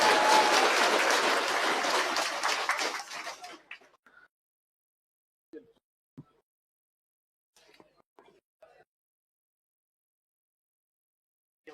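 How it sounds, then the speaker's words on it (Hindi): Students in a Rajasthan history coaching class give their teacher a welcoming round of loud, sustained clapping that fades out after a few seconds, leaving near silence broken by a few faint knocks and taps. "तो एक बार सर का एक बार जोरदार तालियों से स्वागत करोगे"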